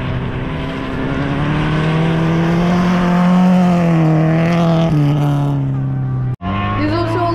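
A race car engine roars steadily on a dirt track at Symmons Plains Raceway, its pitch rising and falling as it revs, then cuts out briefly before picking up again; loud and fairly close.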